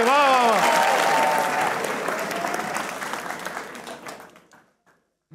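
A studio audience at a comedy talk show bursts into loud, dense applause with a brief vocal cheer at the start, the clapping thinning and fading out over several seconds.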